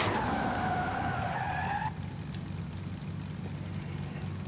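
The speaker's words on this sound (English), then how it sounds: "as you can see, the rear wheels are locking, even though I've tuned the brakes" Car tires skid and squeal as the rear wheels lock under braking in the racing game Forza Horizon 5, a loud, wavering screech for about two seconds that cuts off and leaves the engine and road noise.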